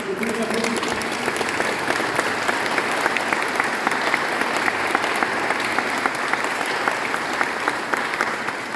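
Sustained audience applause fills a church after a solo performance, dense steady clapping throughout with a voice speaking faintly over it early on.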